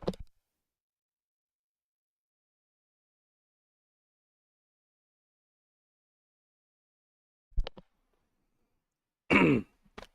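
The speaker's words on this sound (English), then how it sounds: "I got a cough" A throat clearing at the start, then long silence, then a short cough and a harsher, louder throat clearing near the end.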